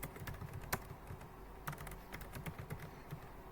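Rapid clicking of keys on a computer keyboard while writing code, irregular bursts of close, crisp taps with no voices.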